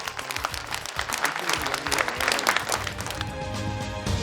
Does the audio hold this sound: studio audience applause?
yes